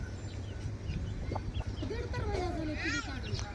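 Free-range village chickens and young chicks in a poultry yard cluck and cheep in short, rising calls, several birds close by over a low steady background.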